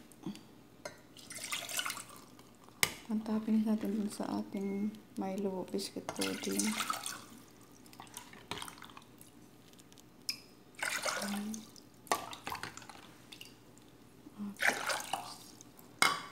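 Four cups of water splash and pour into a pot in several bursts, with dripping between them, while a person talks over much of it.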